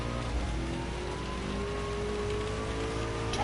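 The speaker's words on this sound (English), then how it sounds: "So apparently you get morning rain as well." Steady morning rain in a racing video game hisses as a constant wash of drops, even and unbroken, with a faint engine hum underneath.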